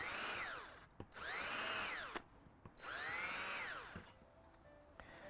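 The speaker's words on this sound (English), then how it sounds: "I got my 1/16 inch bit in here, and I'm just going to go around the edge and make a bunch of small holes" Small power drill with a 1/16 inch bit boring airflow holes around the edge of a plastic compost bucket: three whining bursts that rise and fall in pitch, with clicks and short pauses between them.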